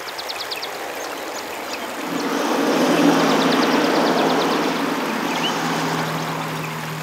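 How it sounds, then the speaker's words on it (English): River water flows gently at a crossing with a steady, broad wash and trickle. A low engine-like drone runs under it, and faint bird chirps come and go in the background. "The river crossing, with the soothing sounds of gently flowing water, is another ideal spot for a picnic."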